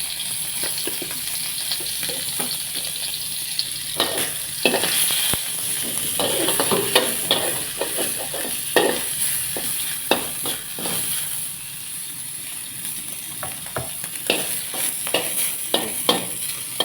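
Pork pad thai being stir-fried in hot oil, with a steady loud sizzle broken by repeated scraping and clattering of the utensil against the pan, no talking.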